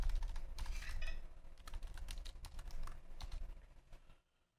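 Computer keyboard being typed on up close, a quick irregular run of clicking keystrokes with short pauses, stopping abruptly near the end.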